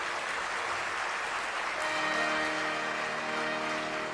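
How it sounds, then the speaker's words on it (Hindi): A seated audience at a devotional discourse on Shiva and Parvati claps steadily, a dense continuous wash of applause that holds its level throughout, with faint musical tones entering partway. "तो आप लोग भी ताली बजाने में जरती मत काटिए, पूरा ठीक से बजाइए"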